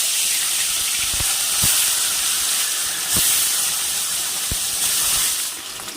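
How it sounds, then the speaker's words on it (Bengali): Bhangra fish, marinated in salt and turmeric, frying in hot oil in a kadai: a loud, steady sizzling hiss that runs throughout, broken by a few sharp pops and spits. "তেল গরম হয়ে গেছে, এখন মাছগুলো ভেজে দিলাম।"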